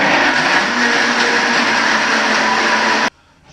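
A blender whirs loudly and steadily as it blends almonds into almond milk, a dense continuous roar that cuts off abruptly near the end.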